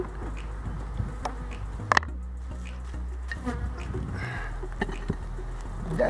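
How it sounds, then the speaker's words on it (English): Honeybees buzz steadily around a hive on a hot day, a continuous close insect drone with a few brief taps and knocks, no talking. "Honeybees."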